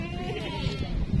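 A goat bleats in a wavering, nasal cry close by, lasting about a second over low background noise, at a Javanese goat sale.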